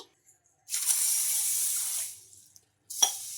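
Tap water runs into a bowl of washed green gram for soaking, a steady close pour of about a second and a half that tapers off, then a brief second splash after a short pause.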